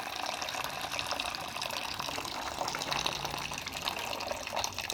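Dark water is strained off boiled banana flower in a home kitchen, making a steady, faint splashing and trickling stream that runs throughout with no voices.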